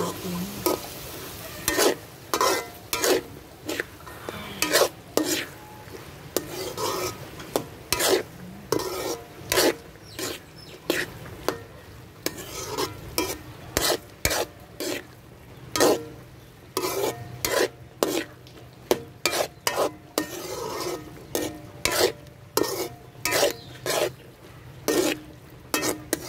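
Potatoes simmer in a pan for a ground beef torta, with a steady low sizzle under frequent scraping stirs of a utensil against the pan, repeated in irregular bursts.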